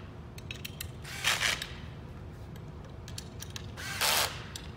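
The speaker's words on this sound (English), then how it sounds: "We'll tighten down the lock nuts." Lock nuts tightened by hand during assembly of an FC-100 or FC-200 tripod unit, giving two brief ratcheting, clicking bursts over quiet room noise, with small scattered ticks between them.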